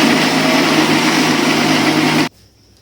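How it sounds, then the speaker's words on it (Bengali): A kitchen blender whirs loudly and steadily, blending boiled raw mango with its cooking water, then stops suddenly, leaving near silence. "এবার আমি এটাকে ব্লেন্ড করে নেব।"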